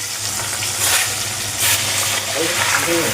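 Hilsa fish curry sizzling loudly as a ground poppy seed, mustard and green chilli gravy is poured into the hot pan, a dense continuous hiss and crackle with stirring, close and steady throughout.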